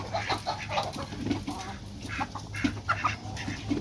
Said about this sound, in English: We got new chickens, same ducks.